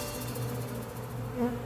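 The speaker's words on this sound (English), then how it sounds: "If you see a swarm of bees, don't be freaking out." A swarm of wild honey bees buzzes in a steady, droning hum of many insects close by, with one bee passing louder near the end.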